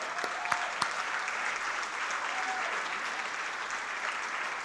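An audience at a neighborhood business awards ceremony applauds the nominees with sustained, even clapping that carries on throughout at a moderate level.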